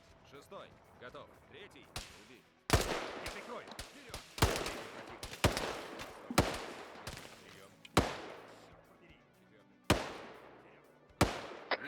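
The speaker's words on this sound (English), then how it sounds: "they will just freak out and blind fire" Enemy soldiers blind fire guns in a military shooter during a winter raid, with sharp bursts and single cracks that ring out at uneven spacing and decay fast, while players talk quietly between shots.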